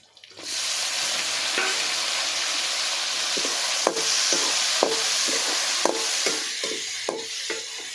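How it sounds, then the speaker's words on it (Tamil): Onion and tomato frying in a pan for dried fish curry: a steady close sizzle with a sharp clink of a spoon against the pan every second or so. "வெங்காயம் தக்காளி எல்லாம் பொருளும் நல்லா வதங்கிடுச்சு"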